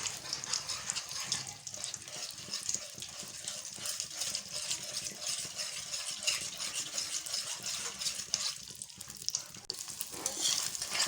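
Eggs frying and being stirred in a pan for Chinese-style fried rice: a steady, close, bright sizzle with scraping and stirring clatter throughout, fairly loud, with no talking.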